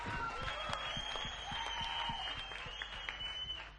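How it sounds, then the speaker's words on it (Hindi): Church congregation clapping with hands raised, with sharp whistles cutting through at times, a fairly faint, busy patter of applause throughout. "दोनों हाथों को उठा के ताली बजा के सीटियां जो भी चल रहा है"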